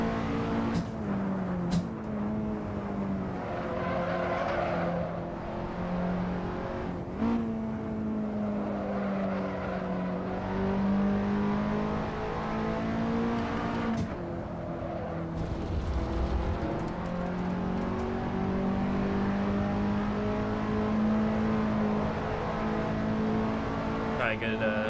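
Car engine on a race lap at Roebling, droning steadily from inside the cabin and climbing in pitch as it revs into VTEC, with a driver talking over it now and then.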